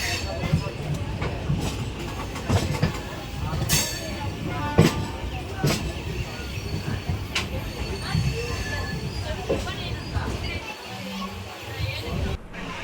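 The Ratnachal SuperFast Express pulls into platform 2 at Anakapalli station, its wheels squealing and the carriages rumbling and clattering steadily nearby as someone talks.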